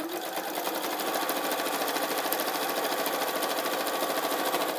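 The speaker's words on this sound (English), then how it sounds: "And you want to attempt to sew very straight," A sewing machine stitches straight along the edge of batting-filled fabric tubes, a rapid, even mechanical chatter that runs nonstop and close by at a steady loudness.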